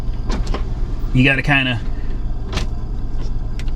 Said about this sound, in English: Windows a little sticky.